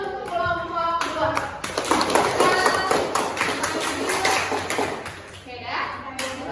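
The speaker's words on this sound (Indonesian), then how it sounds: "tepuk tangan dulu untuk kelompok 2" A class of students claps together for a group that has just finished presenting, a steady patter of hands mixed with children's chatter and voices throughout the classroom.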